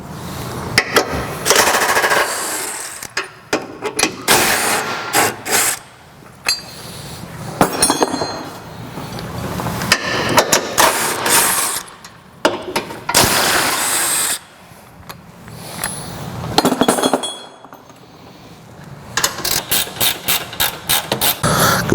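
Power impact tool with an 18mm socket removing tow hook bolts on a Ford Bronco: repeated loud, close bursts of rapid hammering, with metallic clinks and short pauses between runs, and no talk.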